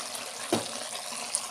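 Half a tumbler of water is poured into chicken cooking in a pan for Pallipalayam chicken, a brief close splash with a sharp start that fades into a soft steady wash.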